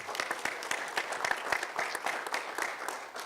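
An audience at a hurricane season kickoff meeting gives a round of applause, many hands clapping in a lively, moderately loud burst with individual claps standing out, sustained through to the end.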